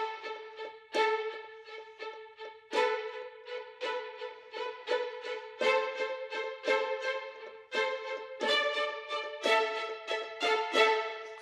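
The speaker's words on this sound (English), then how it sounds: "the spiccato, which has the bow bouncing on the strings" Orchestral strings play spiccato, the bow bouncing lightly off the strings in a string of short, detached notes, clear and close with brief accented clusters.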